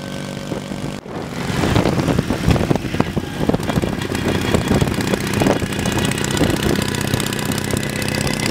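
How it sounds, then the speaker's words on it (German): Pre-war BMW R 32 motorcycle engine running too rich, a loud, continuous rough drone with uneven firing pulses that steps up sharply after a brief dip near the start and stays steady, no voices. "Der Motor läuft jetzt hörbar zu fett."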